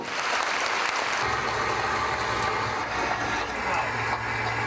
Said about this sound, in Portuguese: Muito aplauso, tá certo?